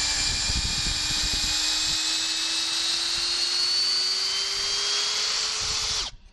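A Bosch GSR 18V-50 cordless drill runs at steady high speed, loud and close, its whine continuous for about six seconds before it cuts off abruptly at the end.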